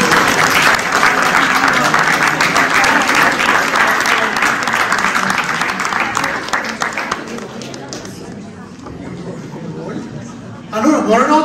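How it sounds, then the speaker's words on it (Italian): A room of people at a training workshop meeting applauds warmly, dense clapping mixed with chatter and light laughter, thinning out and fading before a voice speaks at the end. "un altro applauso a Anna"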